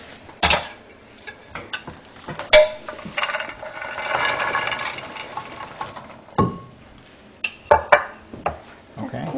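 Fried struffoli dough balls being stirred through honey in a pot, giving a run of spoon scrapes and clinks against the pot with soft sticky knocks, close and moderately loud, with brief pauses between bursts.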